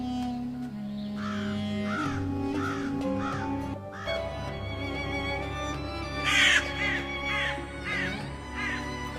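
Repeated crow caws, a series of harsh calls in a regular rhythm, clearly heard over continuous background music.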